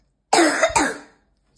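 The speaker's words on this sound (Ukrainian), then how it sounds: "Покашляй." A single cough given on request during a medical examination of a patient with a respiratory infection, one close, fairly loud burst with a quick second push, then silence.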